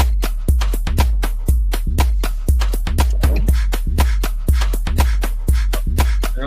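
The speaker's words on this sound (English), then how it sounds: "Yeah, that's house. This is house music." A house music track plays loud and alone, a steady four-on-the-floor kick with punchy bass thumping about twice a second under bright, crisp percussion hits.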